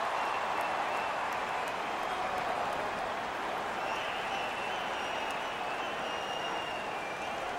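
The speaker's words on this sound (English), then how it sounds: "You can feel the energy in this crowd." Crowd applause and cheering in a hockey arena in the NHL 20 video game, a broad, continuous wash of clapping and noise at moderate level, steady throughout without distinct voices.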